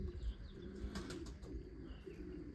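Racing pigeons at the loft after a race, with soft cooing, a few chirps and brief flutters of wings over a low rumbling background, heard close and without talk.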